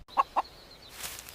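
Cartoon hen in a Hindi animated mystery story gives two quick, clear clucks close by, followed by a faint whistle-like tone and soft rustling, with no talk.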